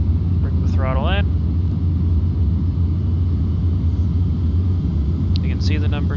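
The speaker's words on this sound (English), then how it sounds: "You can hear it spooling up." C-17 jet engines spool up before takeoff, a steady, loud roaring rumble filling the cockpit, with brief cockpit chirps and voices heard under the engine noise.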